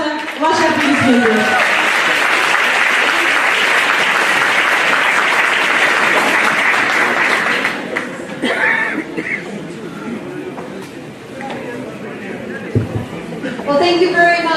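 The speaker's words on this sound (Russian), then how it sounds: "Пожалуйста, ваши аплодисменты." An audience applauds a guest doctor invited onto a stage at a wellness presentation, loud sustained clapping with some chatter and laughter, then fading as a speaker talks over the thinning claps.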